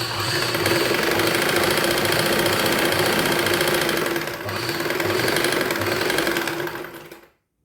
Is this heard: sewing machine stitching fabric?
yes